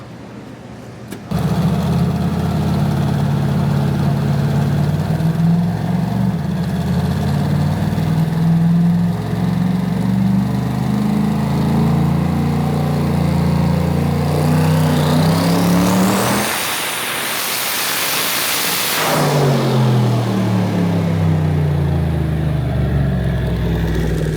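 A methanol-fueled Dodge Duster race car engine runs loud and close, its rough, lopey idle rising in a rev sweep, dropping briefly, then settling back to a steady rumble.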